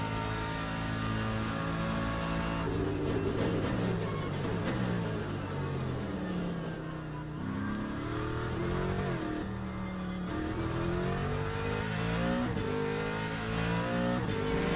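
A V8 race car engine in Le Mans Ultimate roars continuously, its pitch climbing and falling through repeated upshifts and downshifts, loud and close throughout with a brief lift off the throttle midway.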